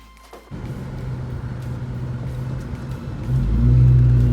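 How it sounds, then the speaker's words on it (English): A 2002 Ford Mustang starts up and pulls away, its engine settling into a steady low rumble before swelling louder as it accelerates near the end, with no talking. "we're gonna take it for a little test drive"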